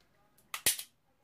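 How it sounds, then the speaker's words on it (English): Dry-fire trigger click of an emptied Hi-Point 995T 9mm carbine: one crisp, close mechanical snap with a quick follow-on click, alone in a quiet room. "So you can dry fire it."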